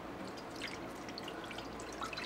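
Water trickles and splashes softly into a cooking pot holding onion and bay leaves for a fish and shrimp broth, a faint, continuous liquid patter.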